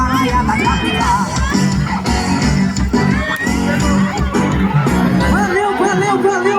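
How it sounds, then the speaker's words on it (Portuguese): A crowd yells, whoops and chatters around a São João bonfire that has just toppled in a village in Brazil. The noise is loud, continuous and dense, with shouting voices over one another throughout. "É o grito da galera na raia da capital."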